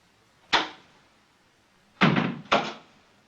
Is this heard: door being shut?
yes